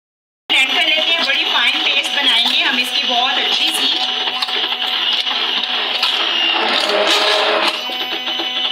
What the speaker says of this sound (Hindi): हम हैंड ब्लेंडर के साथ उसको करते हैं ब्लेंड।